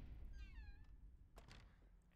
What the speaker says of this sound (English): Did I just hear a meow?